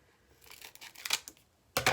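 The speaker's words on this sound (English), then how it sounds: "I am just going to take my scissors that I have out here" Scissors cut open a sealed strip package, giving a few sharp snips and crinkly plastic rustles that build to a loud final cut at the end, close up with no talking.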